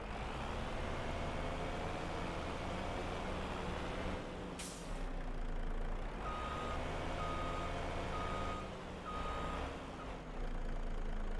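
A farm truck reversing into a parking spot by a wood pile, its beeper repeating steadily over a loud idling diesel engine, with a sharp hiss of air brakes midway.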